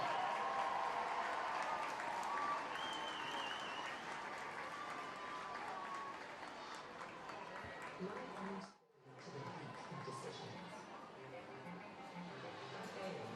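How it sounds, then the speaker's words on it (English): Crowd applause for rugby teams at a women's Six Nations match between Ireland and Italy, a broad, steady roar of clapping from a large stadium audience that dips briefly and then swells back. "let's get a huge round of applause from the teams from Dungarvan, Ballincollig, Tralee, and Garryowen"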